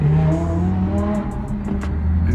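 A Lamborghini Huracan Evo revs loudly and close by, its engine note rising and falling in a strong, sustained roar, with a few sharp crackles near the end and no speech.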